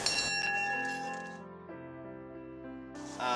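The Congress Bell in Armagh peals in a church setting, its quiet ringing tones lingering and slowly fading before a fresh strike near the end.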